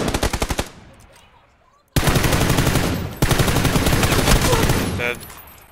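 Automatic weapon fire in the battle royale game PUBG on the Erangel map, loud close bursts of rapid shots, a short pause, then sustained rattling volleys with no voices.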